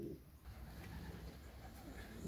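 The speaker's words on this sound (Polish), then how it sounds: "gołębie już lokują się do spania" Soft pigeon cooing murmurs steadily at a low pitch, close by inside a loft as the birds settle to sleep, with a constant low rumble of indoor background noise and no talking.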